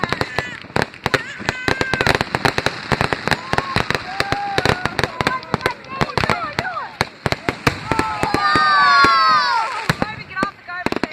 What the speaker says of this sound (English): the Bath fireworks, I think they're the best in Ontario because they're really good and they go for like half an hour